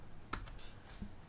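Typing on a computer keyboard at a desk: a few quick, light key clicks, close and sparse, with a soft low tap near the end and no voices.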